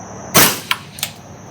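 A suppressed gunshot at an outdoor range, a sharp muffled crack followed by two quick, fainter metallic impacts as the bullet strikes the backstop.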